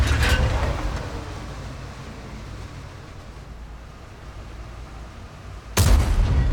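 Heavy World of Tanks cannon fire against an IS-2, a booming blast at the start that decays into rumbling ambience, then a second loud thump near the end, with no voices.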